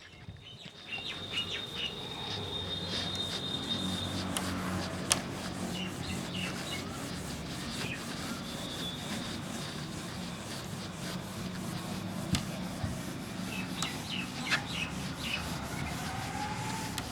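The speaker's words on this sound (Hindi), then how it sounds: "मैं इसे रब कर रहा हूँ।" A teacher rubs writing off a board in a Class 10 maths lesson, a long, continuous scratchy rubbing close by, with birds chirping faintly in the background.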